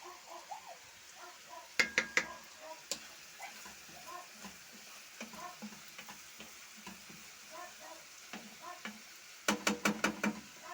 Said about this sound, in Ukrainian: Ну, зараз все обжарюю гарненько